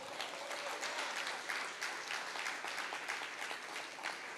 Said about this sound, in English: please give all of these folks a big round of applause